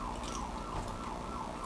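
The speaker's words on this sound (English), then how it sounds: "Don't mind the siren in the background." A wailing emergency siren rises and falls steadily in the background, loud and continuous, with faint chewing sounds beneath it.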